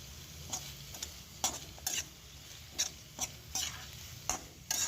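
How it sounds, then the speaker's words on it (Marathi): Plenty of chopped onion being sautéed in a pan for stuffed chilli, giving a steady low sizzle with a spoon scraping and stirring at irregular intervals, close and fairly quiet. "मस्त भरपूर असा कांदा घातलेला आहे आणि तो पण आता आपण छान परतून घेणार आहोत"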